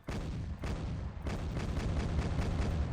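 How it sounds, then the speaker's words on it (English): Autocannon on a heavy war machine in Arma 3 with a Warhammer 40k mod fires a rapid string of loud, booming shots, about five or six heavy rhythmic blasts with rumbling tails, close and alone. "we're going to be taking a look at the autocannon on this bad boy"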